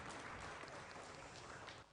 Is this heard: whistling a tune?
no